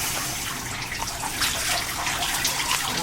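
Water splashes and streams steadily as it is poured to rinse a person's back, a close, continuous wet splatter with no talk over it.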